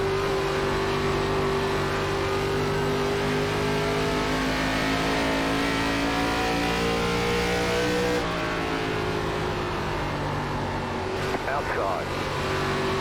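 Race car engines in iRacing NASCAR at Iowa Speedway, an ARCA Series race: a loud, sustained roar with slowly shifting pitch as the cars lap, with a brief shift partway through, heard under continuous talking.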